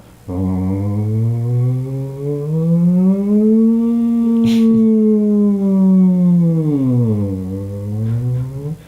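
A person vocally imitates a siren, a single sustained wailing tone that rises slowly, holds, then falls and rises again over about nine seconds, loud and close with no other talk.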